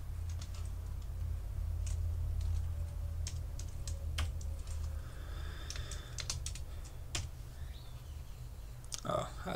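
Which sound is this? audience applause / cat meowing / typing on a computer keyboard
typing on a computer keyboard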